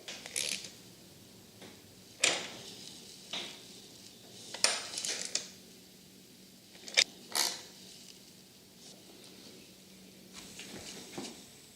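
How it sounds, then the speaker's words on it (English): Button head screws and a hose clamp being tightened on a KTM throttle body intake boot, giving scattered metallic clinks and ratchety clicks at close range, with quiet stretches between bursts and no talking. "we're going to go ahead and proceed to tighten all the button head screws, all four of them, and the intake boot down below the hose clamp on the throttle body"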